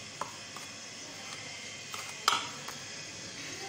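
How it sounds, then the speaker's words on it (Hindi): A spoon stirs a dry spice coating for crispy fried chicken in a bowl, giving a few faint clinks and light scrapes against a quiet background. "अभी हमने इसे मिक्स कर लेना है अच्छे से"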